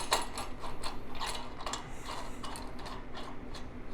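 Ratchet clicking steadily as it tightens the nut on the rear bump stop of an off-road modular bumper on a Lexus LX470 / Land Cruiser, a rapid run of close, fairly quiet metallic ticks.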